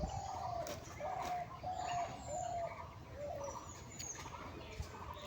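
Golden chicken chicks chirp on a poultry farm, thin high peeps repeating in short bursts over a low background hum, faint and fairly distant.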